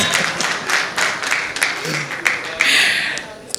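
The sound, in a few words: applause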